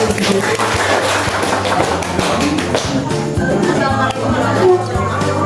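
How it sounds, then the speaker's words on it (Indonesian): Schoolchildren in a classroom applaud a presenting student group, giving loud, continuous clapping with a busy, crowded texture over a steady low hum of the room. "Beri tepuk tangan dulu buat kelompok dua."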